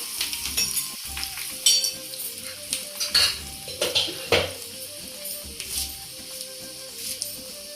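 Tempering seeds, crushed garlic and dried red chilies sizzle in hot oil in a pan. A steady crackle runs underneath close ladle scrapes and clinks that come and go.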